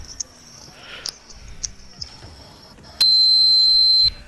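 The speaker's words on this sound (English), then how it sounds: "He finally got a dog whistle thing. The highest frequency." A dog whistle app emits a piercing high-pitched tone, first as several short chirps spread out, then one sustained loud beep lasting about a second, over a quiet room background.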